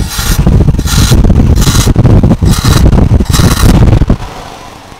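A Renault/Nissan car engine, one with a fault that makes it stall at idle, revs loudly and steadily up close as the accelerator is pressed, then drops back toward idle near the end.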